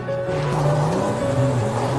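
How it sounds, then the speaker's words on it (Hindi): A car engine holds a loud, steady drone that rises in pitch as the vehicle speeds up, close and continuous as a story sound effect. "गाड़ी की स्पीड बढ़ा दी"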